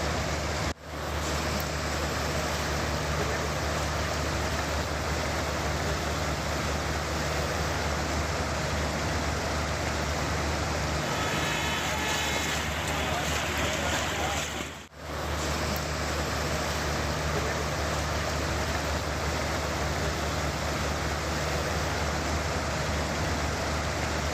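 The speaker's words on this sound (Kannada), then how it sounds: "ಉತ್ತರಾಖಂಡದ ರಿಷಿಕೇಶನಲ್ಲೂ ಕೂಡ ಮಳೆ ಅಬ್ಬರ ಜೋರಾಗಿದೆ." Heavy rain pouring in Rishikesh, Uttarakhand, a dense and loud continuous roar of falling water with two brief dropouts.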